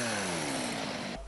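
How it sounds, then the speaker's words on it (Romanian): Chainsaws cut through trees brought down by snow in a Cluj neighbourhood: a loud, close engine whine with a steadily falling pitch as the blade bites in, briefly, with no voices. "Drujbele s-au auzit în mai multe cartiere din Cluj."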